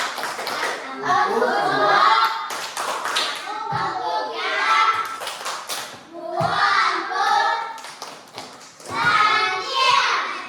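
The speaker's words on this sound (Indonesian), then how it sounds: "Kita beri tepuk santian lah untuk si Ferry." A class of schoolchildren doing the rhythmic Indonesian 'tepuk santai' clap, bursts of patterned claps mixed with children's chanting voices, close and lively in a classroom.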